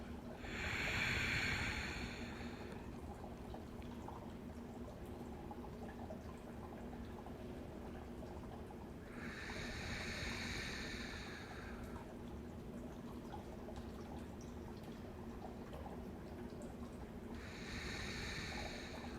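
Slow, deep breaths drawn during a yoga child's pose, three long airy exhalations spaced several seconds apart, soft and close, over a steady low room hum with no talking.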